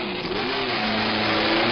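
A race car engine at Sebring drones loudly and steadily as the car heads out onto the track, a dense mid-pitched roar with slight pitch shifts and no pause.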